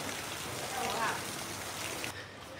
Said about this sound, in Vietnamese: Mưa, trời ơi mưa tầm tã.